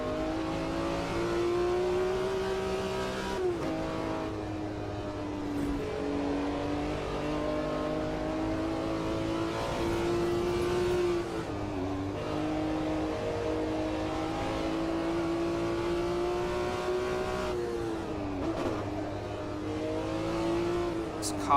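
Cars in a racing game whine continuously, the engine pitch rising with acceleration and dropping sharply at each gear change, repeating in cycles over about twenty seconds.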